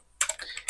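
Keystrokes on a computer keyboard, a brief burst of several quick clicks entering a username prompt, close and alone.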